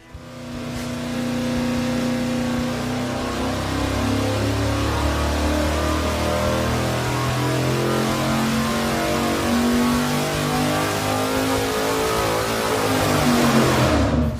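A carbureted 5.3L LS V8 with a dropped carburetor base roars steadily at high load on a dyno for the whole stretch, its rising whine easing off near the end.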